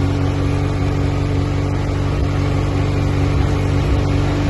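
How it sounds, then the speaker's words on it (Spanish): Kawasaki Z1000 motorcycle engine running steadily just after starting, a loud continuous hum with strong low harmonics and no pauses throughout. "Cuando prendemos la moto"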